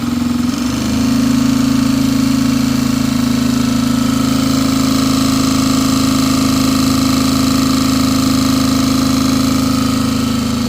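A model engine runs in a machine shop with a steady, loud mechanical hum and a constant rhythmic chug. It holds an even drone throughout after a short start at the beginning.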